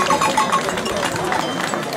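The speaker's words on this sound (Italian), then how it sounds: "facciamo ancora un applauso, grazie comunque" Crowd applause during an award ceremony at a goat festival in Valgoglio, a steady two-second burst of clapping with voices mixed in.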